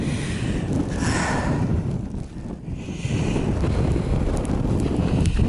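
Strong wind roars across a hilltop on the Pennines with low cloud, gusting continuously against the microphone with heavy low rumble and no speech.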